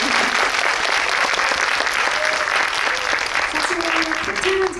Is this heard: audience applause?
yes